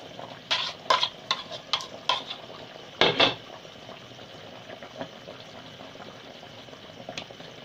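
Stirring in boiling oha soup thickened with cocoyam paste: a run of quick scraping, clattering strokes in the pot early on, then a louder burst of stirring, over a steady bubbling simmer that fades toward the end.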